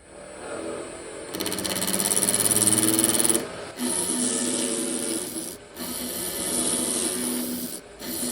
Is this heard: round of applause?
no